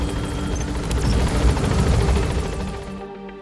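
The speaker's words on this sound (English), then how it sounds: "Head for the RV. The chopper's waiting." An extraction helicopter in Metal Gear Solid V thunders close and loud with steady rotor chop and engine roar, swelling slightly before fading out at the end.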